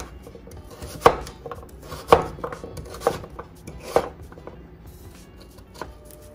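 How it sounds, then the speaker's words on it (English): A knife chops a vegetable into cubes on a cutting board, giving four or five distinct, evenly spaced thuds about a second apart, close by and clear, with no voices. "And then I'm gonna cut it into cubes from here"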